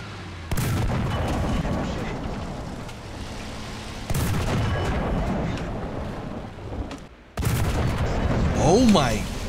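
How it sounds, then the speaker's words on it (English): A 120mm tank cannon fires in the War Thunder tank game: three sharp, loud booms spaced a few seconds apart, each followed by rumbling decay, with a metallic ricochet-like whistle near the end. "I'll be shooting that upper plate from a little angled out with this 120mm."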